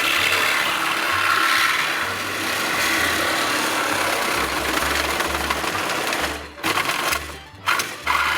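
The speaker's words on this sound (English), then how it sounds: "let's go get the sawzall" A Sawzall reciprocating saw cuts off metal brackets in the engine bay of a 1969 Dodge Charger, buzzing loud and close with a rapid rasping stroke that stops briefly near the end before starting again.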